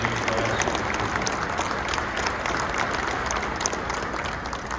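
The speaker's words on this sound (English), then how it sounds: "a round of applause for those players as well." Applause for basketball players at a boys state finals lunch, many hands clapping in a sustained, even roar from a large audience that holds steady throughout with a slight fade at the end.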